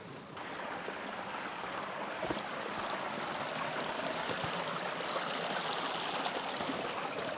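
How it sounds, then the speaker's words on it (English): A small river in the Brecon Beacons, on open access land with no paths, rushes steadily and close by, a continuous broad wash of flowing water with no voices. "So our first obstacle is this little river."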